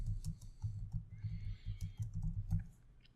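Typing on a computer keyboard gives a quick, close run of soft key taps at an uneven rhythm, trailing off at the end.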